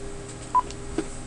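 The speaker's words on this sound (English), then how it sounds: "I can call my one of my other lines, 102, and dial." Two short telephone keypad tones sound on a FreePBX phone line running under Asterisk on CentOS 5, each a brief separate beep over a faint steady line hum, with no talking.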